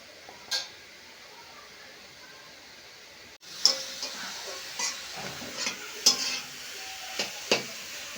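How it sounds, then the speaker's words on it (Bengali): Grated carrot stirred and fried in a pan on a gas stove for carrot barfi, quiet at first, then a soft sizzle with repeated light scrapes and clicks of the utensil, close and faint. "একটু একটু করে নেড়ে চেড়ে ভাজতে হবে"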